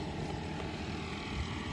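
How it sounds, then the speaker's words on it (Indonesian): A toy helicopter's propeller spins up in a steady whirring drone, close and continuous without pause or surrounding talk. "Sekarang kita coba terbangkan helikopter ini guys."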